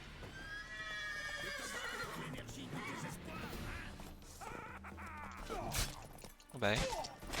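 Horses whinny and neigh in the video game The Witcher 3, with several drawn-out calls over clip-clop hooves and scuffling game sounds, fairly loud and close, the last neigh the strongest.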